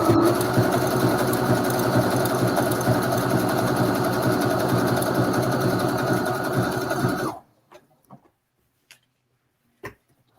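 A sewing machine runs continuously, stitching a blanket stitch around a piece for a bag, its fast steady whir lasting several seconds before stopping abruptly, followed by a few faint clicks and taps.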